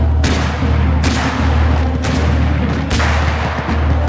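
Dramatized cannon fire from Marlborough's artillery at the Battle of Blenheim: four heavy booms about a second apart roll over a dense, continuous rumbling battle din, loud and close.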